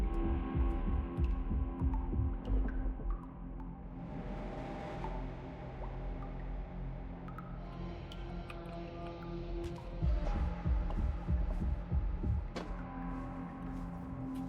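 Heartbeat-like throbbing pulses sit in the background of the video game Eclipsium over a droning ambient hum. The beats come in low, soft clusters at the start and again near the end, with no talking.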